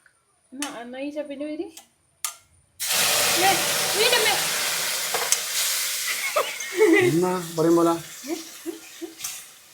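Water pours with a sudden loud hiss and sizzle into roasting semolina in a hot pan, a steady steaming rush that continues while someone talks over it.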